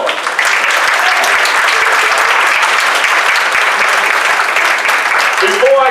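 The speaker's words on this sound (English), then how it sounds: "Can we give them a round of applause?" Banquet audience at an Order of the Eastern Star chapter event gives steady, full-room applause, dense clapping holding at an even level throughout before a voice begins at the end.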